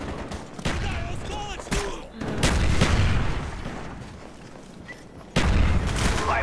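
Gunfire in Call of Duty Black Ops, loud volleys of shots and booms in bursts, with a voice talking intermittently underneath.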